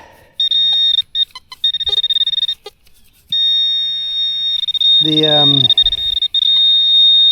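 A Teknetics Patriot metal detector sounds a loud, sustained high beep broken into quick double-tap pulses on a close target, with someone talking over it briefly.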